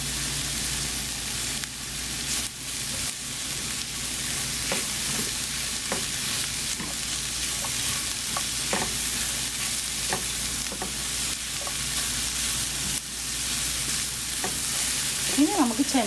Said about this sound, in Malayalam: ഇനി തേങ്ങ ഇടാം. അതിൻ്റെ കൂടെ കുറച്ച് കറിവേപ്പില.